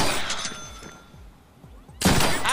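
Gunshots in the Deadpool video game: rapid repeated shots fire quickly at the start, followed by a quieter stretch with clicking, then one loud blast near the end.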